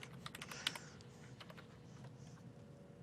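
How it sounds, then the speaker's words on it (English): Typing on a computer keyboard during database coding work, a steady run of quiet, close key clicks with a few sharper taps, heard alone. "I hit the caps lock again."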